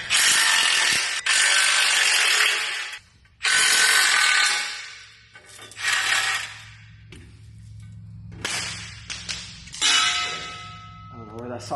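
A hand ratchet loosens 15 mm bolts on a 2020-2022 Ford 6.7 Power Stroke diesel, with several close, loud bursts of rapid clicking separated by pauses and lighter metallic handling noises.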